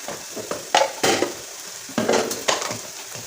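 Ajwain and cumin seeds hitting hot oil in a pan for aloo paratha masala, a loud crackling sizzle with repeated bursts of popping and stirring scrapes, no speech.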